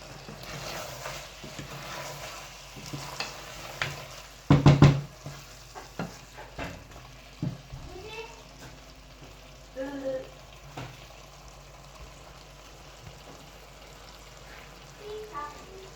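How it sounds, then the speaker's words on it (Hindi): Cauliflower and meat curry with ginger frying in a pan while being stirred, with a soft continuous sizzle broken by scattered scraping strokes and one louder clatter midway. "दो से 3 मिनट हमें हो गए हैं इसको भूनते हुए।"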